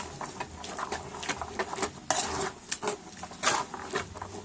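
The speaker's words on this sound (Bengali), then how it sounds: "যেগুলো খুব সুন্দর করে নেড়ে নেড়ে বয়েল করে দিই" A utensil stirs boiling food in a pot, with irregular scraping clinks and knocks against the metal over a low bubbling background, close and moderately loud, no talk.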